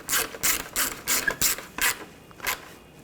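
A hand ratchet clicks in short repeated bursts while tightening intercooler fasteners on a 2013-2022 Buick Encore 1.4L, close and crisp, about seven quick ratcheting strokes with brief pauses between them.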